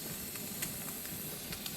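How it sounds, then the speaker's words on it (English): Steam hisses steadily from the vent of a pressure canner holding green beans, a faint continuous airy hiss with a few brief sharper spurts, no talking. "You see steam's coming out of that hole."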